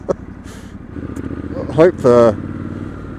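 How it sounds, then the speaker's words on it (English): A 2019 Triumph Scrambler 1200 XE motorcycle engine with a mapped tune rumbles steadily with rough exhaust noise during a test ride, under a voice speaking briefly near the microphone. "mic picks up some of this exhaust noise. Because it is awesome!"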